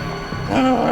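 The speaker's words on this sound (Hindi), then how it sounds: "ये कुत्ता रो रहा है।" A dog in a crime-scene house whimpers and cries, a short nasal whine that rises into a louder, drawn-out tone toward the end, heard close and alone.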